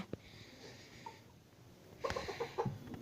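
A few soft clucks from native hens in a small backyard farm, quiet at first and then a brief cluster of louder clucking calls near the end.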